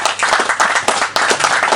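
An audience at a Communist Party festival in Corrèze claps loudly and close, a brisk burst of overlapping hand claps with uneven sharp peaks, short and lively.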